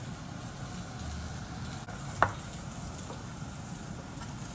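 Cheese being mixed into egg batter for a luncheon meat frittata, a soft continuous swishing stir with one brief clink of a utensil against the bowl, close by.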